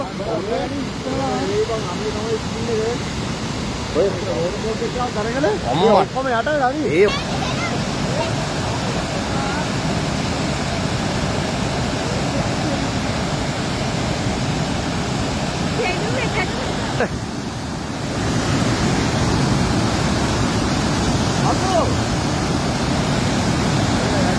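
Rushing floodwater roars continuously and loudly throughout, a dense, turbulent flow with brief voices breaking through the noise.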